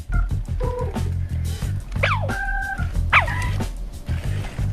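A dog gives a run of short yips and barks close by, broken by a couple of rising whimpering whines, all fairly loud and with no talking over it.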